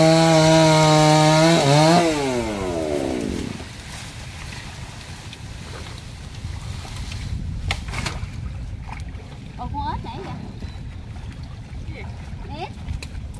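A chainsaw engine whines loudly for a couple of seconds while cutting a large log, then winds down and cuts out, followed by quieter outdoor rustling and clatter.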